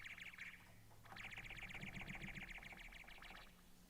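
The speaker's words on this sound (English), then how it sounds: "You got a bird chirp?" A bird chirp sound effect plays as quick, bright, twittering trills in two bursts, with a short pause before a longer run, heard alone and fairly faint.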